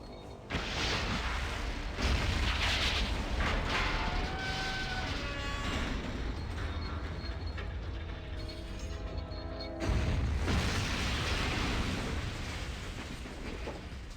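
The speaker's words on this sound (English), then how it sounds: "which we do with plenty of time before everything explodes" Explosions from a self-destruct sequence in the Fallout video game: a sustained roaring blast with rumbling booms and crackling debris, briefly easing before a second heavy surge, loud and continuous throughout.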